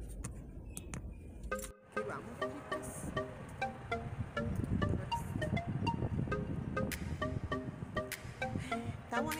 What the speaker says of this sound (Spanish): Está bonito el día, pero hay mucha brisa.